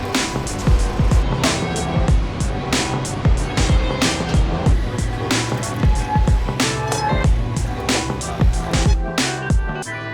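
A loud, busy street rumble with clanking and rattling metal, repeated sharp clacks and a low mechanical hum of a San Francisco cable car grinding along its track.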